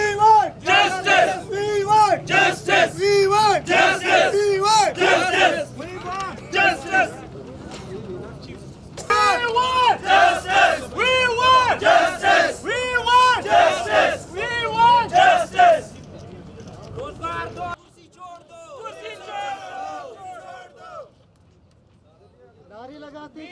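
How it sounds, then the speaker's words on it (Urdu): A protest crowd of veterinary doctors in Quetta chants slogans in loud, rhythmic unison, with a leader's calls and group responses repeating several times before the chanting thins into scattered voices near the end. "نعرے لگاتے جاؤ بھائی بس"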